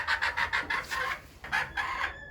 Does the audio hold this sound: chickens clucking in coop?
yes